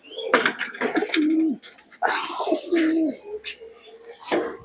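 Male pigeons in a flying-pigeon loft cooing in repeated throaty, rolling phrases, close by, with faint chirps and a little background voice.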